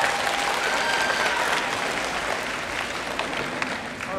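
Stormy audience applause at a J-Rock fashion show, thick continuous clapping from a large crowd with faint voices mixed in underneath.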